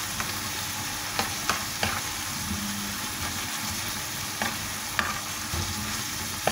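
Alexandrian-style liver frying in hot oil in a pan, a steady loud sizzle throughout with a few light scrapes and knocks as it is stirred, close up and with no talk.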